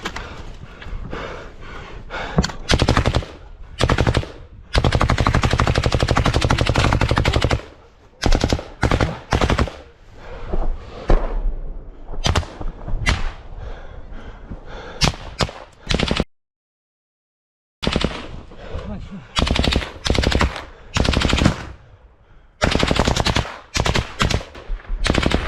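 Automatic rifle fire in battle: long loud bursts and rapid single shots up close, broken by short pauses and one brief silent gap, with no voices over the shooting.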